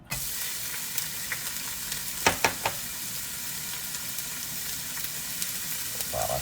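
Onion frying in a little oil for lamb kabsa gives a steady close sizzle, with a few stirring scrapes partway through and no voices.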